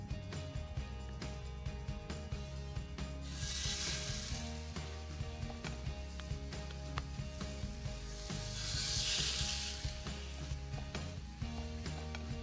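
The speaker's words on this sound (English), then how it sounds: "I'm gonna cook these patties for about 3 minutes per side" Burger patties sizzle on a grill pan in a steady close crackling fry, with two louder hissing surges swelling midway and toward the end and occasional clicks.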